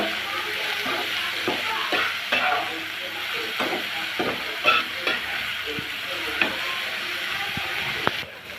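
Kalai greens (shak) and garlic frying in a pan: a steady, close sizzle with scattered scraping stirs and light clicks of a spatula throughout, no voices.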